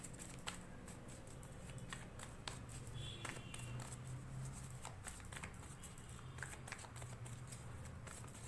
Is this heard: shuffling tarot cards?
yes